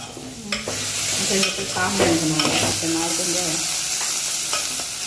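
Sliced bitter gourd fries in a pan and is stirred, steady close sizzling broken up by scraping and clattering stirring strokes, with no talking.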